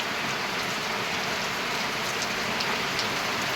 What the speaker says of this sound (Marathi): आता पावसाचं प्रमाण वाढलेलं आहे.